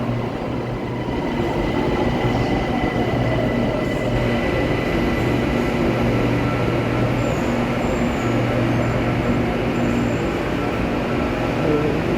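A BTS Skytrain elevated electric train in Bangkok runs continuously with a loud, steady rumble and faint metallic whine, close and unbroken throughout.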